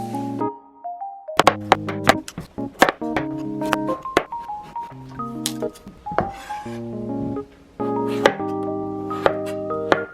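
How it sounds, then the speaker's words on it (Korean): A pumpkin is cut with a knife on a board, seeded and peeled, giving a run of close, sharp chopping thunks and knocks, some clustered and some spaced out. "안에 있는 씨앗을 파내서 껍데기도 다 잘라주면 됩니다"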